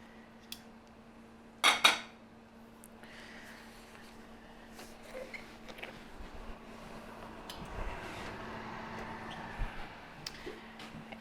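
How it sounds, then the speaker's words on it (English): A roasting pan of root vegetables and sausage goes into the oven, a sharp double metallic clatter of the pan against the rack standing out early in an otherwise quiet kitchen with faint shuffles and clicks. "so I'm going to be putting this back in the oven uncovered for 15 minutes"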